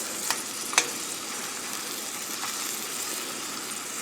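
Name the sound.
shrimps frying quickly in a pan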